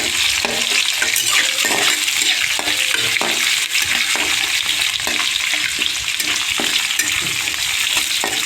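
Onions and curry leaves sautéing in oil in a pan give a steady, close, dense sizzle broken by frequent scraping stir strokes, with no talking.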